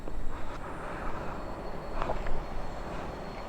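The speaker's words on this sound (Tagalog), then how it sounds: "Nakakatakot yung tunog ng hangin." A low, continuous rumbling roar of strong wind, steady and heavy with slight surges, like a distant engine, with no voices.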